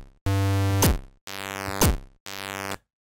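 Tracker-synthesised kick drum that drops into a pitched bass line, heard as three loud separate synthetic notes, each a booming thump with a sharp pitch sweep near its end, with short gaps between them and no voice.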